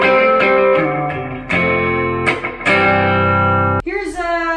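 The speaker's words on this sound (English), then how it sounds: "pop a little spring reverb on that too." Electric guitar through a Boss Katana amp with spring reverb, sustained chords ringing with harmonic decay, a few restrikes and a sharp new attack near the end; no talking.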